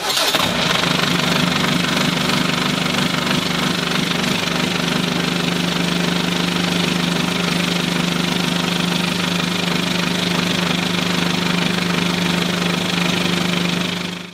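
A Beneteau Oceanis 430 sailboat's inboard engine starts and settles into a loud, steady idling rumble heard up close, running continuously throughout.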